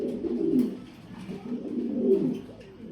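An imported 20-ring pigeon cooing close up, two rounds of low throaty rolling coos, alone with no talk.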